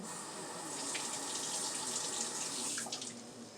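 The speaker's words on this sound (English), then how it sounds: "So I'm going to rinse this lemon off again." Faucet water rinses a lemon under a kitchen tap, a steady soft hiss of running water that stays close and even throughout, with no voices.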